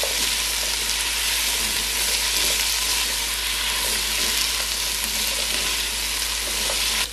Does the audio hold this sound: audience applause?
no